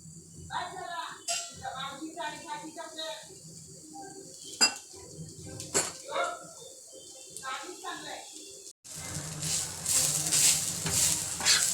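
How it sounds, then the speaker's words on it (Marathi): Onions fry in a little oil in a pan, a loud, continuous sizzle breaking in near the end after a stretch of spoken talk and clinking utensils against cookware. "आता आपला कांदा लाल होत आलेला आहे, भाजत आलेला आहे थोडा"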